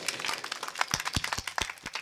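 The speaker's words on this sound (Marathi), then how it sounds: "टाळ्या वाजून त्यांचं स्वागत करेल" An audience claps in welcome at a kirtan programme in Chitravadgaon. The applause is a dense, steady patter of many hands with a few sharper cracks, heard close and continuous.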